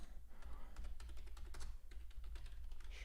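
Computer keyboard keys clatter in quick, uneven bursts of soft clicks, close and fairly quiet, with no talking.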